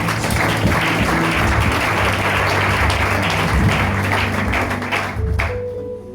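A congregation applauds during a New Year's Eve church service, a dense, steady wash of clapping that fills the whole stretch, with faint musical tones running beneath and the applause thinning out near the end.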